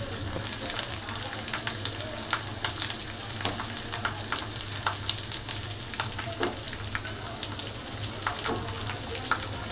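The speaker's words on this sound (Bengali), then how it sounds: "এক মিনিটের মতো রসুনটা ভেজে নিয়ে দিয়ে দিচ্ছি পেঁয়াজ কুচি" Three small local garlic cloves, peeled, fry in oil with a dense, even sizzle and frequent crisp pops. The frying is close and steady over a low background hum, and there is no voice.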